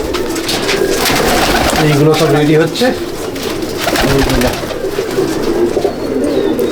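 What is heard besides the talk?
pigeons cooing in a loft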